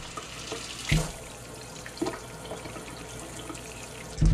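A kitchen faucet runs steadily to purge air from the water lines, with a continuous hiss broken by a few sputtering bursts and clunks as air escapes.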